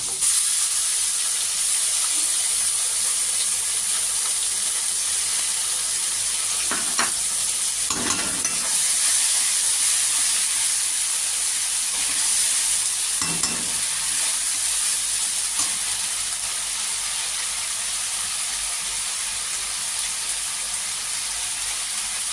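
Onion-ginger spice paste with tomatoes frying in a pan, cooking for a lotte-and-brinjal curry, gives a steady close sizzle with a few louder stirring scrapes partway through; no one speaks.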